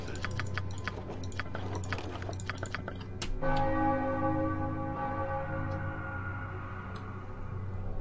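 A deep church-like bell in Baldur's Gate II: Throne of Bhaal strikes once after a stretch of quick clicking, then its ringing tone lingers and slowly decays over several seconds.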